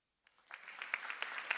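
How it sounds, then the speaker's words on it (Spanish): Faint applause from a cardiac surgery congress audience builds from silence into scattered, thickening claps after a presentation, distant and quiet. "todo el mundo te ha aplaudido"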